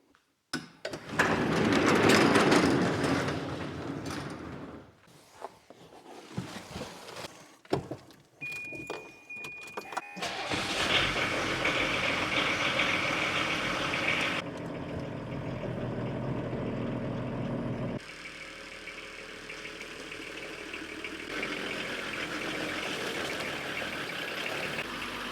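A finished turbodiesel station wagon gets under way, its engine rising and settling through changing tones as it drives, with rattling and jangling bits up front and a steady road drone toward the end.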